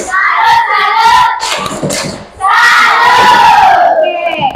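A group performs a 'tepuk salut' clapping salute chant, loud and close, with voices shouting in unison over rhythmic clapping in two energetic bursts separated by a brief dip.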